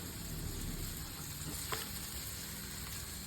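Anchovies fry in a lightly oiled pan. A dense, continuous sizzle crackles close up with no pause, alone and without talk.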